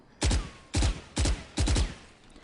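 The Phantom rifle with the Primordium skin in Valorant fires four short, loud bursts of automatic gunfire, each crisp volley separated by a brief pause.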